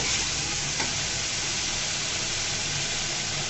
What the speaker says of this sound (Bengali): মশলাটাকে ভালো মতো কষিয়ে নিতে হবে, নেড়ে চেড়ে